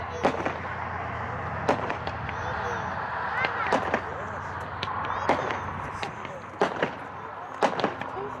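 A Silver Lion 25-shot, 200-gram firework cake fires a rapid series of sharp pops and bangs with crackling strobe effects, loud and fairly close, the shots spaced irregularly over several seconds at an outdoor demo show.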